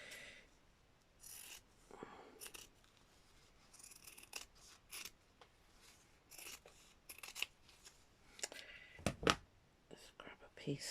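Scissors snip repeatedly while trimming material for a handmade brown-and-gold craft tag: quiet, close cuts scattered irregularly among soft rubbing and rasping handling noises.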